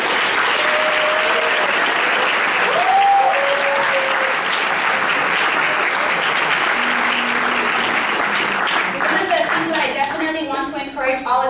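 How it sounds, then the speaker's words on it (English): A conference audience at a SoCal TRiO programs gathering claps for the organizers in a loud, continuous wave of applause, with voices and crowd murmur rising beneath it toward the end. "let's take a quick second to just give them a round of applause for their excellence"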